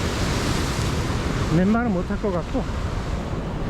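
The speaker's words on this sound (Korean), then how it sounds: "이 파도 소리가 너무 심해가지고 될란지 모르겠네" Ocean surf on a beach at Nha Trang, Vietnam, a loud continuous wash of breaking waves filling the whole clip, with a person speaking briefly over the roar.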